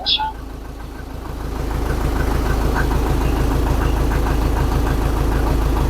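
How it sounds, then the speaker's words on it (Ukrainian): A SKAUT TV-904 tractor engine idles after starting, a steady low rumble with a fast even knock that settles into a constant loud drone, heard close by with no talking. "Так, трактор працює."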